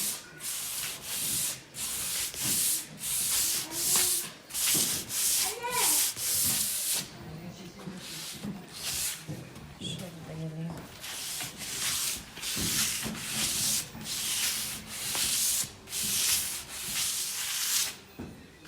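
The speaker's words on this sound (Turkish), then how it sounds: "zımparamı yapıyorum" Hand sanding of relief paste used to form a wood knot texture, rhythmic scratchy rubbing strokes repeating steadily at close range, with brief pauses and faint voices between strokes.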